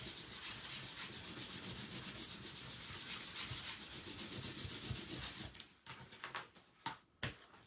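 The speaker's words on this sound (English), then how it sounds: "So we want to just wax it really good." Wax is rubbed hard onto painted cardboard in close, steady, rhythmic scrubbing strokes that run for several seconds, then give way to a few sharp knocks and scrapes.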